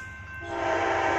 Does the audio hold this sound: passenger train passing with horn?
yes